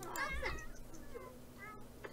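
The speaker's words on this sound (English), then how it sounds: "Right, let's calm this cat down." A cat in The Sims 4 video game meows several times in quick succession, with whiny, rising and falling cries, fairly quiet against a faint game background, followed by a brief softer sound near the end.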